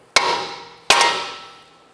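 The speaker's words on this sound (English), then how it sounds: "Right here on the knuckle, I want to go ahead and strike this with a hammer." A hammer strikes a steel steering knuckle on a 2007-2012 Nissan Versa twice to pop out the outer tie rod end, each blow a sharp metallic clang that rings and fades, with no one speaking.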